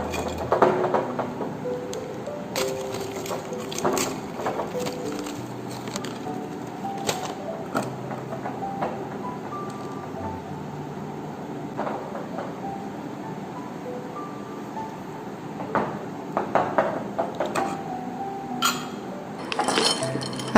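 Items being dropped and placed into glass bottles, producing scattered light clinks and clatters with soft handling noises between, close and fairly quiet, no talking.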